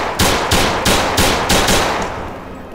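Rapid semi-automatic gunfire from an M1A1 carbine in a video game: five or six loud, sharp shots at an even pace, close and alone.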